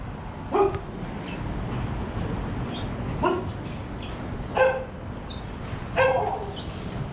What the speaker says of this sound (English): And I guess they have their guard dog too.